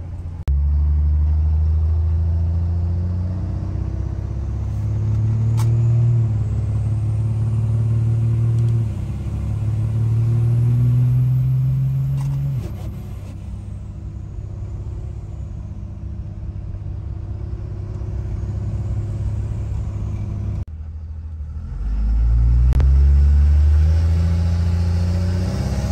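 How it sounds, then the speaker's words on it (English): A 1500-horsepower Cummins diesel engine idles and revs with a deep, loud, steady exhaust rumble, rising in several surges before settling and then swelling again near the end, with no voices. "there's the exhaust note"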